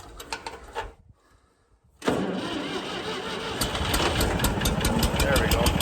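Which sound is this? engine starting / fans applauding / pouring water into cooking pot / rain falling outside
engine starting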